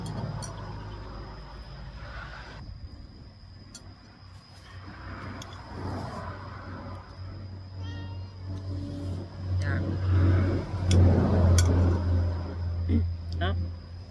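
A cat meows several times outdoors at home, the calls mixed with people talking nearby and a low rumble from a passing car.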